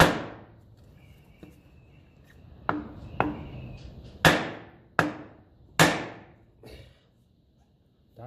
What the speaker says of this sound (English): I'm going to hit it with a big hammer.